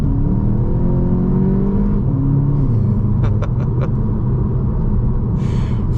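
A 2024 VW Jetta GLI 40th Anniversary edition accelerates hard from a launch in first gear under manual mode, its engine rumble rising steadily and continuously up close, with a few brief sharp ticks partway through.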